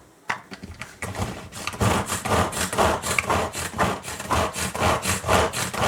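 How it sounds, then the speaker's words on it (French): Onions are chopped by hand, a fast rhythmic series of rasping, scraping strokes that holds a steady pace and stays close and fairly loud, with no talking. "Je vais ajouter les oignons. Voilà, je vais hacher le reste."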